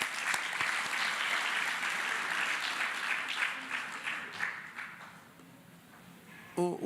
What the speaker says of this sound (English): A big round of applause for the MEC once again.